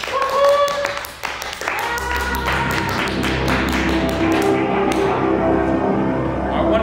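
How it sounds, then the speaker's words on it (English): At a fine arts presentation, scattered claps and taps at first, then a swell of cheering and clapping for the guests with a musical tone playing underneath. "Everyone, give a round of applause for them."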